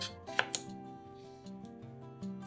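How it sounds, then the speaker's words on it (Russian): A knife slices a bell pepper into long strips on a board, giving a couple of crisp, close cuts followed by softer taps, heard over quiet background music. "Перец нарезаем длинными брусочками."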